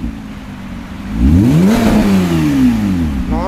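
Porsche Boxster fitted with an iPE exhaust in silent mode, close by: a steady idle climbs into two rising revs, with the pitch sweeping up and falling back, and the engine stays loud throughout.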